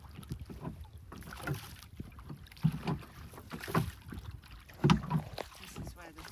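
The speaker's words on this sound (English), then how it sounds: "You want to row this way," Oars working an oyster boat on the Fal Fishery in Cornwall, rowed standing up: rhythmic splashes and knocks about once a second over steady wind and water noise, with louder strokes near the middle and end.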